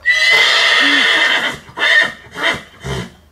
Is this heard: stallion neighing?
yes